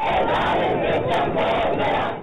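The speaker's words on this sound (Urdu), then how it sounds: "ریلی کے شرکاء نے نعرے بازی بھی کی۔" Rally participants chant slogans together in a loud, continuous mass of raised voices that holds steady for the whole stretch.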